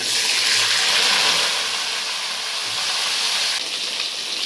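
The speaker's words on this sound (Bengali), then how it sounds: "আমার তেলটা গরম হয়ে গেছে, এবার আমি পটলগুলো লাল লাল করে ভেজে নেব" Pointed gourd pieces frying in hot oil give a loud, dense, unbroken hiss that sounds much like steam or rushing water, close and steady for several seconds without any speech.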